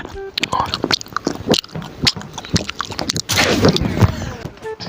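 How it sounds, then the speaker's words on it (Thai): Close, wet chewing of tapioca pearls, with repeated soft biting clicks and mouth sounds over a few seconds, mixed with low background noise. "ถ้าได้ยินเสียงเคี้ยวอะไรไม่ต้องตกใจนะ คือ ผมเคี้ยวไข่มุกอยู่"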